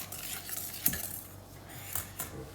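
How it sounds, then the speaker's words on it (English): Cupcake batter being whisked in a bowl, faint and close, with scattered light clinks and scrapes of the whisk against the side rather than a fast steady beat. "So you whisk, whisk, whisk."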